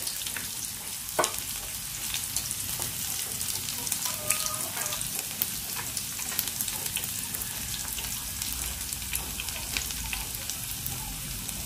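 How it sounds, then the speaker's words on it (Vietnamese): Banana blossom deep frying in hot oil until golden, a steady dense sizzle and crackle throughout with occasional pops, close and continuous with no talking. "Các bạn chiên nó vàng thôi nha, đừng có quá vàng nhiều nó sẽ dễ bị khét đó các bạn."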